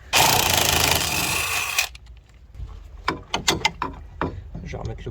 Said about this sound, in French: Je vais remettre le boulon dessus.